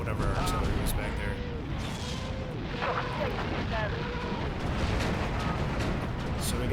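Artillery fire in the World War II strategy game Steel Division 2, a dense, continuous roar of booms and rumbling blasts, with a voice speaking over it.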